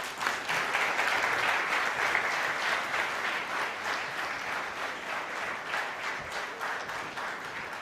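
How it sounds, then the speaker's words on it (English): Audience applause in a conference hall, loud, dense clapping that starts strong, then slowly thins and softens over about eight seconds. "Request everyone to please welcome him with a round of applause."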